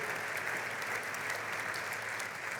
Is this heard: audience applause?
yes